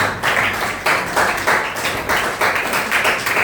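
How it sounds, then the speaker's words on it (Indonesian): Students in a classroom clap their hands together in a lively burst of applause, with rhythmic swells of clapping repeating across the short moment at close, fairly loud level. "Tepuk tangan untuk kalian semua."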